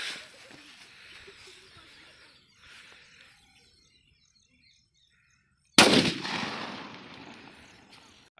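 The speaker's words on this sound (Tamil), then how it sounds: "6 இன்ச்சில் பிள்ளையார் வெடி" A 6-inch Pillaiyar country firecracker from Valangaiman goes off outdoors in one sharp, loud blast after several seconds of near silence, followed by a decaying rumble and echo.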